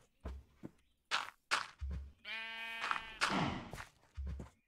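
A sheep bleats once in a long wavering cry in Minecraft, surrounded by soft thumping footsteps and brief rustling noises.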